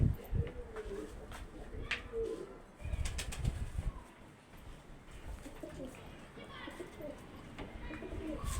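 Pigeons coo nearby and wings flap as the birds are released and take off, with a voice speaking briefly in the background.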